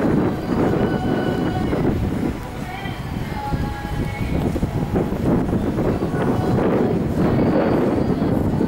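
Steady ocean wind buffets a microphone on a seafront promenade walk between Los Cristianos and Las Americas on Tenerife, a continuous low roar with faint street sounds and distant voices underneath.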